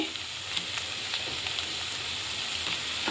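Black-eyed peas fry in a pan with steady, close crackling sizzle and a few sharper pops, alone with no talking.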